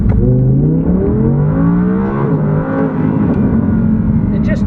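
An Audi R8 V10 RWS, the rear-wheel-drive model with over 500 horsepower, accelerates hard in first gear, its engine note rising loudly and then sweeping up again after a shift, close and dominant throughout.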